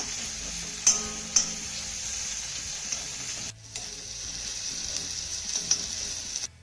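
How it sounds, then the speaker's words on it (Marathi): Chopped tomato sautéing in a spice paste gives a steady, close sizzling hiss, broken by a few sharp clicks of a spoon stirring against the pan. "आता हा टोमॅटो ना चांगला मौसूद होईपर्यंत परतून घेऊया"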